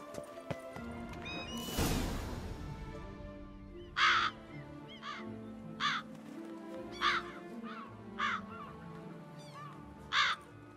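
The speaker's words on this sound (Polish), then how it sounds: "Co te wrony?" Crows caw in The Witcher 3: Blood and Wine. A loud rushing swell comes first, then several short, harsh caws ring out at fairly regular intervals over a quiet ambient background.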